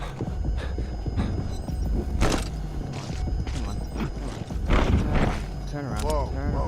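Horse hooves gallop in Metal Gear Solid V, a rhythmic clip-clop running beneath game noise and a voice talking over it, with a whinny-like call near the end.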